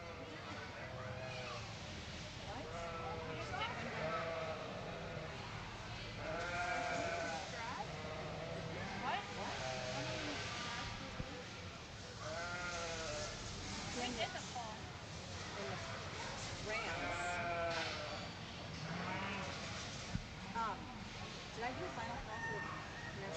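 Spring ewe lambs bleat repeatedly in a busy open-class sheep show barn at a state fair, many overlapping calls near and far beneath a loud announcer's voice.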